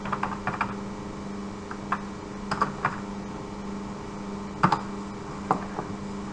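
Scattered keystrokes on a computer keyboard, a few taps and short bursts separated by pauses, quiet and close over a steady background hum.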